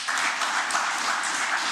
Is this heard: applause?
yes